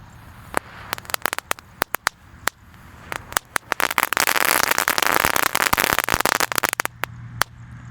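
A Snow Pratek firework egg set off during Eid al-Fitr celebrations starts with scattered loud, sharp pops, then swells into dense, continuous crackling and sizzling before tapering back to isolated bangs.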